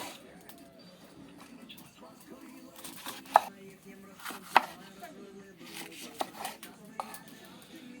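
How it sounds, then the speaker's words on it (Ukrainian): A knife slices through bell pepper on a cutting board with soft repeated cuts, a few sharp louder knocks against the board, and a voice talking at moments. "Значить, нарізаємо перчик."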